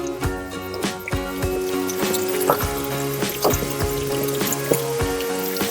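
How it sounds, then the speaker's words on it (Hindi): Water runs out of a natural spring in the hills at Mai ka Mandap, Amarkantak, trickling and dripping close by in a steady splashing stream with irregular drops. "यहाँ पे एक प्राकृतिक पानी का स्रोत है और यहाँ से पानी निकल रहा है"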